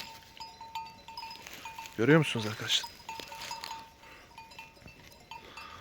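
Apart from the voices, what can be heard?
sheep bleating in a field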